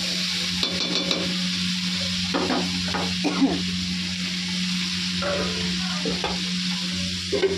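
Spices sizzle in hot oil in a home kitchen pot while khichuri is being prepared, with steady frying hiss and intermittent scraping stirs from a spoon throughout, close and fairly quiet with no talking.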